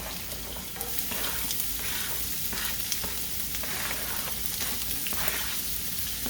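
Sausages, peppers and onions frying together in a single pan, a dense steady sizzle broken by repeated stirring scrapes and soft clanks, close up with no talking.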